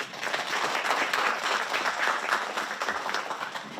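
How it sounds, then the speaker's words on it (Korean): Steady applause from a modest crowd at a ceremony, a brisk even patter of clapping that holds at a moderate level throughout. "박수로 모시겠습니다."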